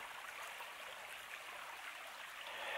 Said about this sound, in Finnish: Täällä on hiljasta puron solinaa.